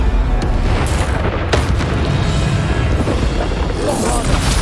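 A booming Bombarda spell blast from Hogwarts Legacy, loud and sustained, with dense rumbling explosions filling the whole stretch and a voice briefly heard beneath the roar.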